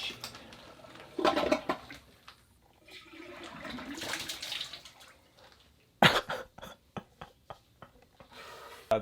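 Toilet flushed to drain it during a bathroom demolition: a gushing, swirling rush of water that rises and fades, then sharp knocks and clatters of handling, all close by.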